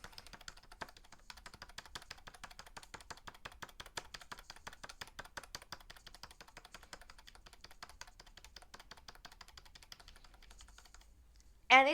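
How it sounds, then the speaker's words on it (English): A USB computer keyboard's F12 key is pressed over and over in quick, steady succession, producing close, faint rapid clicks that run for several seconds before a brief louder sound at the end. "start spamming F12 on the USB keyboard here and see if it works"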